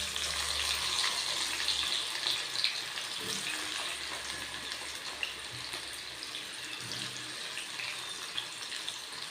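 Jackfruit pieces frying in hot oil, a steady bright sizzle running continuously throughout, close and fairly loud with no talk.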